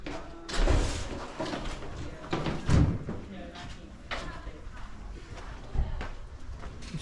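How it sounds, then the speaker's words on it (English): Doors slam inside an English pub, three dull, heavy thuds spaced a few seconds apart over a murmur of background chatter and room noise. "someone's always slamming a door sometime."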